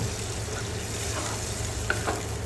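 Mung beans and chicken are stirred in a pot, giving a soft, steady scraping and sizzling with a couple of light utensil clinks, quiet and close, with no talk.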